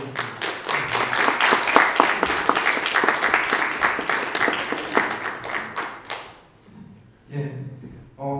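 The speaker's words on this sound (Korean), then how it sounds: "우리 박도슬 목사님과 우리 사모님 다 같이 환영하는 박수로 드리고 인도하겠습니다." A church congregation claps together to welcome a new pastor and his wife, a dense, loud burst of applause lasting about six seconds before fading, followed by a brief clatter of movement near the end.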